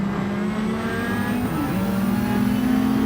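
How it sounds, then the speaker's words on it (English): A racing car engine in a video game hums and revs in a steady, buzzing tone, with pitch shifting slightly as it accelerates. "Oh, that car sounds good."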